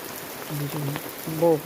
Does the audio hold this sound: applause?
no